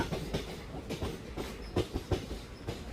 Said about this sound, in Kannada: ಬಾಗಲಕೋಟೆಯಿಂದ ಮೈಸೂರಿಗೆ ಬರುವ ಬಸವ ಎಕ್ಸ್ಪ್ರೆಸ್ ಟ್ರೈನ್